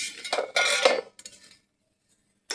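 Metal lid lifted off a cooking pot of moong dal with badi, several sharp clanking and scraping metallic sounds up close, then a brief clink after a short silence.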